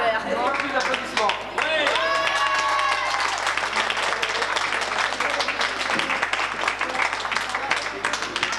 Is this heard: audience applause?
yes